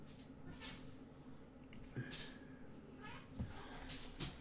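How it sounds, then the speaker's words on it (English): A cat meows several times in a home, short mid-pitched cries standing out against a steady background hum, with faint household noise between calls. "Loki, you're not being nice to the cat."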